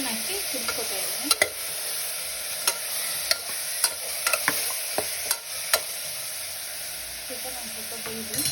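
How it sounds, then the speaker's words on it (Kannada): Chicken simmers with fried onion in oil in a home cooker, giving a continuous close sizzle with sharp clicks from a spoon stirring against the pot. "ಈರುಳ್ಳಿ ಫ್ರೈ ಆದಮೇಲೆ ಚಿಕನ್ ಹಾಕಿ ಕುದಿಸ್ಕೊತಾ ಇದ್ದೀನಿ"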